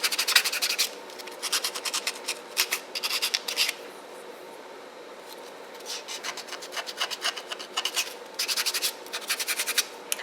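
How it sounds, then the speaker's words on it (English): A nail buffer block with coarse and fine sides rubs across nails in quick bursts of dry scratchy strokes, pausing briefly in the middle, close and fairly quiet. "I done buffed all the nails."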